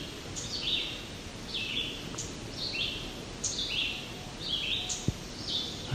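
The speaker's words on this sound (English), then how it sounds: "It appears to be a black and white warbler ticking." Sharp ticking call notes of a black-and-white warbler in a spring forest, repeated in a steady series over quiet ambient background, with other birdsong faint in the distance.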